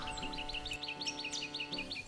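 Small birds chirp repeatedly while feeding on hakea seeds in the canopy, a quick series of bright, close tweets over a faint steady background hum.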